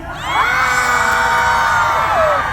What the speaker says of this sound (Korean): 박수와 함성을 한번 보내주시면 됩니다